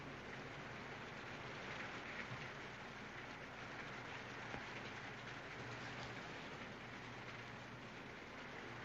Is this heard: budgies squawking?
no